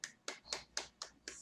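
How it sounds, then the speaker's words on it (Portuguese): Six sharp, evenly spaced hand claps, close and fairly quiet, from one person or a small group during a live online class about keyboard shortcuts, with no talking in between. "Salve de palmas aí, que o homem é bom."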